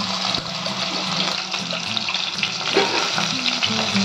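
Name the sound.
chicken pieces frying in mustard oil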